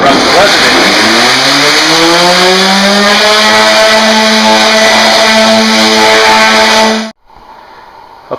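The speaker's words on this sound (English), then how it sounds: "I'm going to very carefully, without doing any divots or dips with the random orbit sander, see if we can sand off the rest of the residue." A random orbit sander sands leftover glue residue off a cedar strip deck. Its motor whines up in pitch, holds a loud, steady buzzing drone for several seconds, then cuts off abruptly into near quiet.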